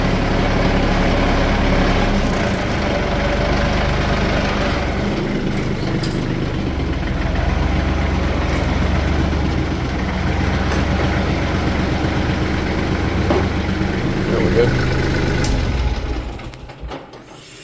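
Kubota L3400 tractor engine idling close by, a steady loud diesel chug and rumble held for about sixteen seconds before fading out at the end, no talking.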